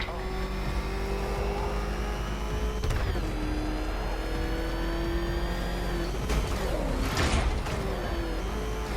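Batmobile engine in Batman Arkham Knight revving steadily with shifting pitch, loud and continuous, with skidding bursts and a speech-like layer over the roar.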